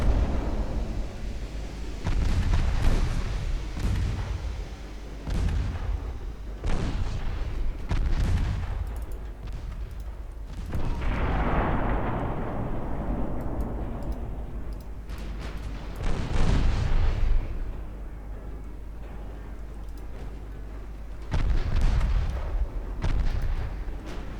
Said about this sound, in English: Trooper still firing with her 7-inch guns.